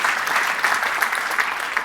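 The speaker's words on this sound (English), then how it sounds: "Round of applause, everyone." Steady applause from a group at a property investment masterclass, an even wash of clapping lasting under two seconds with no clear break.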